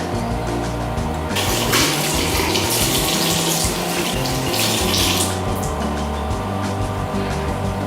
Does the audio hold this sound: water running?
yes